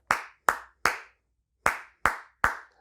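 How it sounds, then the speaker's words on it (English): Sharp hand claps from a capoeira groove ring out alone and close: three evenly spaced claps, a brief pause, then three more, each with a quick decaying tail. "you hear that clap, or it's sometimes they do two claps"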